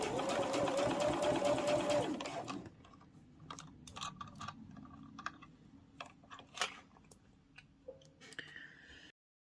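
Sewing machine top-stitching a lanyard with a longer stitch, first a quick steady whirring run lasting about two seconds, then scattered light clicks and ticks as the work is handled.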